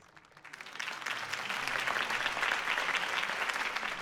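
A crowd applauding Harvey Dent's campaign speech, the clapping swelling quickly into a dense, sustained ovation that holds steady throughout.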